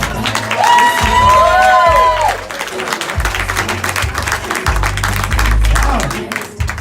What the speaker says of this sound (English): by round of applause, we're going by crowd decision